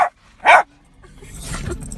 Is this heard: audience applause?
no